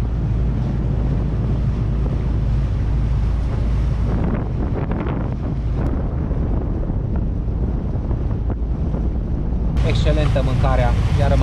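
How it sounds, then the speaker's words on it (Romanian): Strong wind buffets a boat off Komodo in Indonesia, a steady, loud roar with water wash beneath and a brighter gust near the end. "iar m-am retras că suflă vântul"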